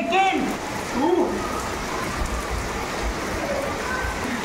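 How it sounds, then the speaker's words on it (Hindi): Heavy rain falls steadily in a dense, loud wash with a constant hiss, and a voice briefly cuts through near the start. "क्या ही बारिश हो रहा है"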